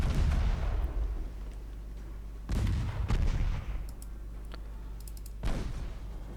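Naval guns fire in Ultimate Admiral Dreadnoughts, giving heavy booming salvos that land at intervals, each one rolling off into a low rumble, with a few faint clicks scattered in between.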